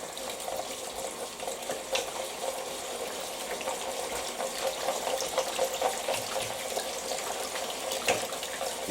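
Cold tap water runs steadily through a colander of rinsed canned red kidney beans, a continuous close splashing hiss with no break and no talking.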